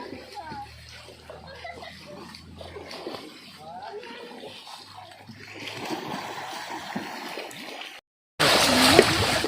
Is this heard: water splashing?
yes